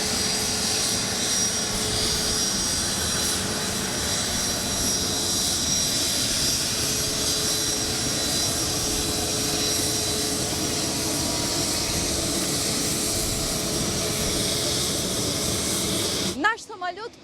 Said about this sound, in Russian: в небе над Сухумским аэропортом появляется первый за 30 с лишним лет международный пассажирский рейс